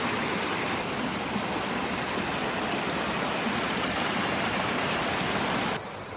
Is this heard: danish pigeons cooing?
no